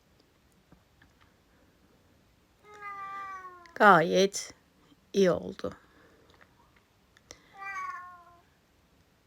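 A cat meows several times, loud and close, with short, insistent calls spaced apart, while a person speaks briefly in between.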